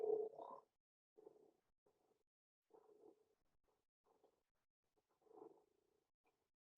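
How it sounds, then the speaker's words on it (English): A common frog calls in short, soft, purring croaks, about five low bursts spread irregularly across several seconds with quiet gaps between them, faint and close with no other sound. "We're just going to have a little listen to the call of the common frog"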